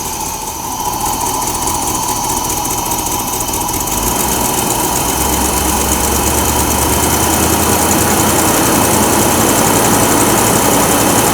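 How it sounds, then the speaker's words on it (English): Car engine that turned over quickly on a freshly charged battery, revving up and holding a loud steady roar after starting, close by and continuous with no talk. "I'm going to race the engine up so you can see how well this engine runs now"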